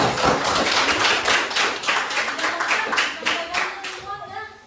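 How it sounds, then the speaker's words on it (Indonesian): A classroom group claps together for a teacher's lesson, a dense, close run of hand claps that thins and fades toward the end, with a few faint voices. "tepuk tangan buat saya"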